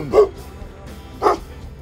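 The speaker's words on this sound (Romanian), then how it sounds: "Sunt ceva câini la casele care sunt aici lângă pădure." Dogs at houses near a forest bark twice, about a second apart, from a moderate distance, with no talk over them.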